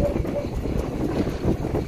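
Strong wind buffets the microphone in a dense, continuous low roar at a pigeon loft landing board during pigeon arrivals.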